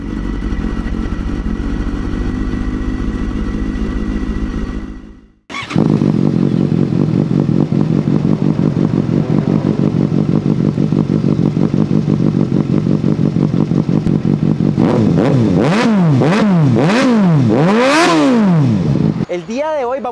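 A Suzuki GSX-S750 motorcycle engine idles with a steady rumble, cuts out briefly, then restarts and revs repeatedly in rising and falling sweeps, loud and close.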